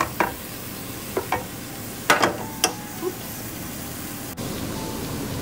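Ground meat browning in a frying pan gives a faint, steady sizzle with scattered scraping clicks of a utensil stirring, close by and with no voices over it.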